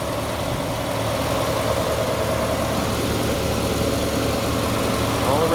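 Straight-six engine of an original 1957 Chevrolet 210 with a rebuilt carburetor idles steadily, a low, even rumble that holds close and constant throughout.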